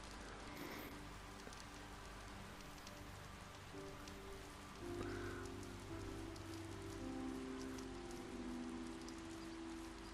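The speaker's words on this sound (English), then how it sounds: "Oh no, it's raining." Steady rain patters continuously on surfaces in the VR voxel game cyubeVR, a dense even hiss with soft droplet ticks, heard alone with faint tonal game ambience beneath.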